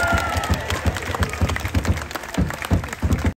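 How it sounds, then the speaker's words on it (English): Audience applause at a luau show at the Polynesian Cultural Center in Honolulu, heard as steady group clapping with a rhythmic, beat-like pulse of claps throughout, moderately loud and fairly close. "How about a round of applause for my warriors?"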